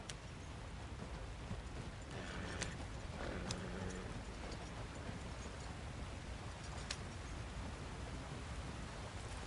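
Horse hooves clip-clop at a steady walking pace in Red Dead Redemption 2, faint and low under a wash of rain-like ambient noise, with a few sharper knocks standing out.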